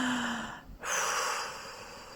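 A slow, deep breath drawn in and then released in a long, airy exhale, close and unhurried, with no talking, during a guided group breathing session.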